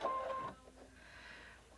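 A sewing machine fitted with a ruffler attachment runs briefly, a short mechanical whirring burst that fades into a quieter continuing hum.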